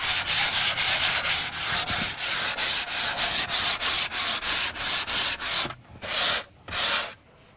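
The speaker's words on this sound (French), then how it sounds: "je procède à un léger égrainage avec un abrasif très fin" Fine 180-grit abrasive lightly sanding varnish between coats on wood, a steady series of rhythmic rubbing strokes, close and fairly loud, slowing to a few separate strokes near the end with no talk.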